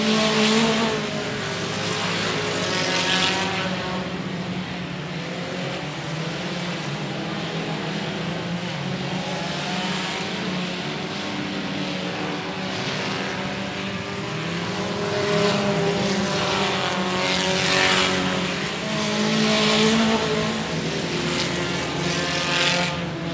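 Race cars roar around the oval at 105 Speedway in a steady, loud engine drone, with swells as the pack passes, under a race announcer's commentary.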